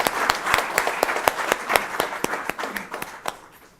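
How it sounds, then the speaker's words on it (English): An audience at a memorial lecture at the India International Centre claps, a dense, steady applause with sharp individual claps standing out, gradually thinning toward the end. "I think that in and of itself deserves a big applause, and I request you to join me in that applause"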